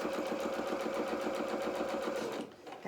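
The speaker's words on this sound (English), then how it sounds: "now I'm going to just run down this top of this panel as well" A sewing machine stitches steadily along the top of a tiered dress panel through a single fabric layer, a fast even mechanical whirr held for over two seconds before it slows and stops near the end.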